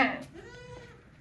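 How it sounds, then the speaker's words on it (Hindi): A tall dairy goat gives a single short bleat, close and fairly loud, fading quickly into quiet. "ऊंची हाइट वाली बकरी है, ज़बरदस्त बकरी है, दूध वाली।"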